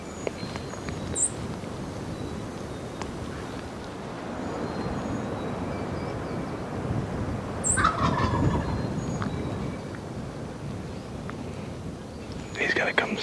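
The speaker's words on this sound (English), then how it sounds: "Gobbler's coming from behind us." A wild turkey gobbler gobbles outdoors in strong wind, two short rattling gobbles spaced several seconds apart and heard at a distance over constant gusty roar, with hushed whispering voices nearby.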